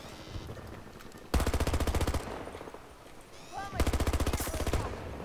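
Turret machine gun in Battlefield 2042 on the Noshar Canals map fires in two loud, rapid bursts of evenly spaced shots over a steady background of distant battle noise.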